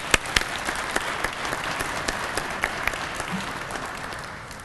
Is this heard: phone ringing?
no